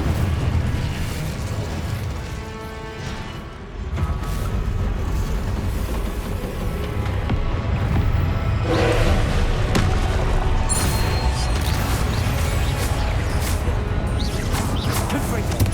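Fiery spell blasts from the Hogwarts Legacy video game, with Incendio, Confringo and other combat spells cast in a trial fight, booming and crackling loudly through a dense, continuous stream of game effects and music.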